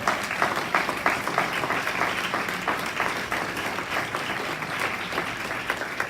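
A church congregation breaks into sustained applause, dense, loud clapping filling the room evenly from start to finish with no talking.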